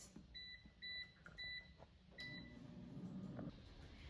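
An air fryer chimes when cooking ends: three evenly spaced pairs of clear electronic beeps, then one more after a pause, fairly close over a low room hum.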